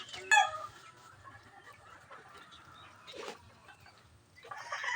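Gamecock chickens give a sharp cluck or crow up close at the start, followed by scattered softer fowl sounds and rustling, with more faint bird noise near the end.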